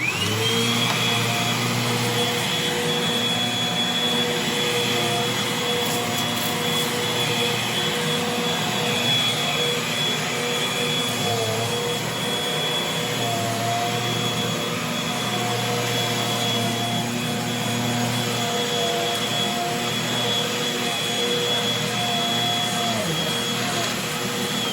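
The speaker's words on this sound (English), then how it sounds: "Now I'm going to vacuum up the rest of this. You'll see me back and forth in small sections." A vacuum cleaner drones loudly and steadily while it is pushed back and forth across a floor in small sections, its whine holding constant throughout.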